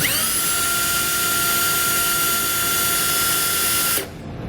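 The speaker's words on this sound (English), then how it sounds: "I'm going to use a really small drill bit just to make a mark" A small power drill with a small bit drills into a truck frame, whining steadily at high pitch for about four seconds, close by and loud, then stops abruptly.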